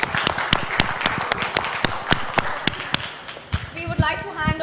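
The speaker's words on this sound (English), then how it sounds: "A round of applause to the parents." An audience at a Toastmasters Tall Tales championship awards event clapping for the parents, a quick run of sharp, close hand claps that thins out toward the end as a voice begins speaking.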